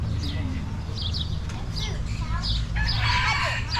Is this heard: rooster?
yes